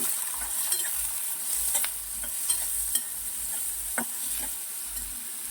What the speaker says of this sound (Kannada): ಹಾಗೆ 1-2 ಈರುಳ್ಳಿ ಹಾಕೊಳ್ಳೋಣ. ಇದನ್ನ ಲೈಟಾಗಿ ಬ್ರೌನ್ ಆಗೋ ತನಕ ಫ್ರೈ ಮಾಡ್ಕೊಳ್ಳೋಣ